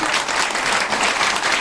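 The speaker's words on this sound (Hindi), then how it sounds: "अब डबल तालियां बनती है कि नहीं गुप्ता जी के लिए?" A crowd at a grocery products training event claps for Gupta ji, a loud, dense burst of applause lasting under two seconds.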